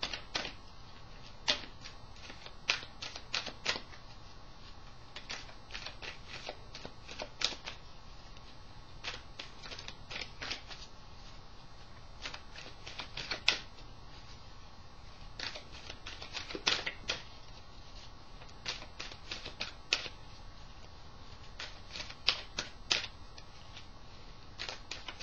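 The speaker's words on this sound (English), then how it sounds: "I'm going to shuffle on this one." Tarot cards are shuffled by hand in a quiet room, producing faint irregular riffles, flicks and soft clicks that come in scattered bursts, close but low in level, with no speech.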